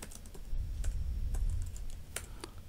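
Quick, light keystrokes on a computer keyboard as a query is typed, soft scattered clicks over a low background rumble, fairly faint and close, with no speech.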